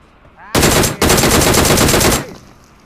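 An MK rifle fires in the video game PUBG Mobile: two loud, rapid automatic bursts close by, a short one followed by a longer one, each ending abruptly.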